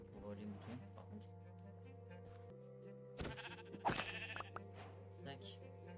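Sheep bleat in the Minecraft video game, a few short bleats over steady background game music, while a person talks throughout.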